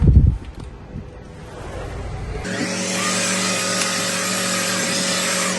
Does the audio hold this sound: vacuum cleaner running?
yes